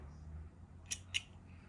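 Scissors snip crochet yarn twice in quick succession, two short crisp cuts close by over a quiet, low background hum.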